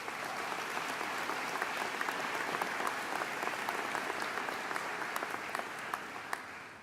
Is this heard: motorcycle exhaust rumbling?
no